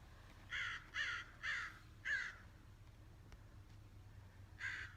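A crow caws five times in short harsh bursts, four close together and one more after a pause, moderately near over a quiet outdoor background.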